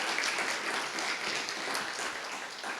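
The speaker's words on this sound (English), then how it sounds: "this also deserves another round of applause," Applause from a seated audience at a university alumni homecoming celebration, a steady wash of many hands clapping at moderate distance, fairly soft and sustained without a break.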